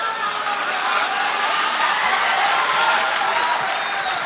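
Audience clapping at a Hindi poetry recital (kavi sammelan) hall, a steady dense wash of applause held at even loudness throughout.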